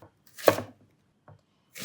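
A knife chops scallion into segments on a cutting board: a few crisp, separate strikes spaced unevenly, close and fairly loud, with quiet between them.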